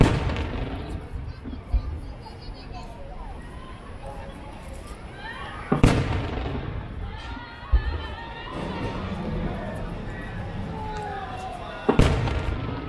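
Fireworks pop and boom repeatedly at a distance at a Nagashima Onsen anniversary display in Japan, with a few sharper bangs standing out over a murmuring crowd and steady background noise.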